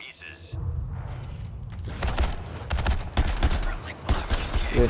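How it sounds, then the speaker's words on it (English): Cannon fire in a combat video game: a rapid fusillade of booming, cracking shots in dense bursts, loud and close, following a brief quiet lead-in with faint tones. "Those rich cannons will tear our units to pieces."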